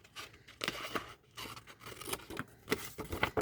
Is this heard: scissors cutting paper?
yes